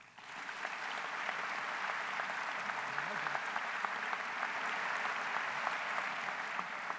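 Sustained applause from a university convocation audience welcoming President James Danko, dense and steady throughout after a quick swell at the start, loud and filling the hall with no talk over it.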